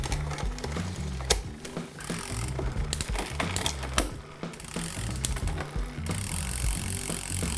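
Bicycle gears shifted quickly across the rear sprockets, rapid mechanical clicks and ratcheting taps over a whirring drivetrain, close and fairly loud.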